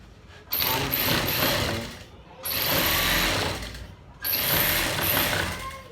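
A sewing machine stitches a shirt collar in three bursts of rapid mechanical whirring, each lasting about one to two seconds, with short pauses between them while the fabric is turned.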